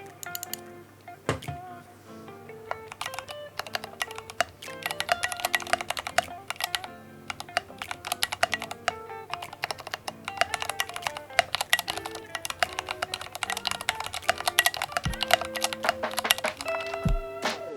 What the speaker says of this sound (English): So for all you mechanical keyboard enthusiasts out there, here's a soundbite of how the keys sound like